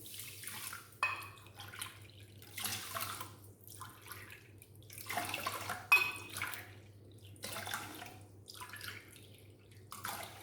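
Water poured from a cup onto sugar in a pan for rasmalai syrup, heard as several separate splashing pours with quiet pauses between them, fairly close and soft.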